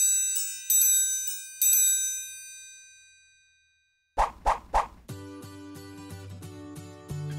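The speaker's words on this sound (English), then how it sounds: "Triangle. This instrument has this name due to its shape." A metal triangle percussion instrument held lightly by two fingers rings out with bright, shimmering strikes, two clear tones that decay slowly into silence, followed by other clinking percussive hits and sustained tones.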